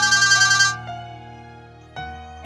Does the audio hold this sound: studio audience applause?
no